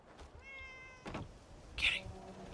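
A cat meows in Fallout 4, a short harmonic cry early on, followed by a brief broadband thump and a sharper bright chirp near the end, all fairly faint over quiet game ambience.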